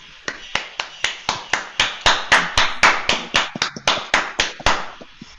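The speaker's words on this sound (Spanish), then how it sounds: "un voto de aplauso, de reconocimiento a Pilar" Steady, evenly spaced hand clapping at the close of a virtual seminar on political analysis, about sixteen crisp claps from one or a few people, close and clear with no voices.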